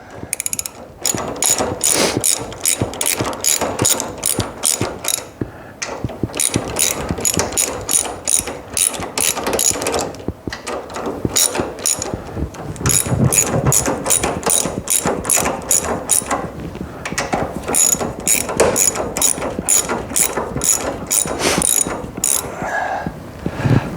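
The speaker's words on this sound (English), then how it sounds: "Now we'll go ahead and tighten these up" Rapid ratchet clicking in repeated bursts as bolts on KYB shocks are tightened on a project Ford Mustang, loud and close with brief pauses between runs of strokes.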